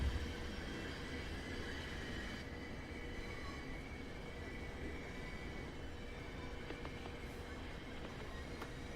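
A Caltrain Peninsula Corridor train in Train Sim World 6 rolls slowly with dynamic braking, giving a continuous rumble of wheels and a faint high metallic flange squeal, plus a few light clicks from the rails, with no talking.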